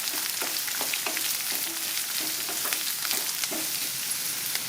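Chopped onions fry in a pan for raw mango chitranna, a dense, even sizzle close up with faint crackles throughout and no voices.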